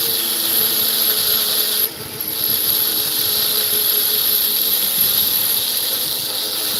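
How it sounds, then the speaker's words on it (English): A 220-grit sintered diamond burr grinds into Aguascalientes fire agate, a steady high whine and hiss that holds without a break and dips briefly once near the start. "now I'm using my 220 sintered burr because it cuts much smoother"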